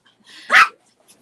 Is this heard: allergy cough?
no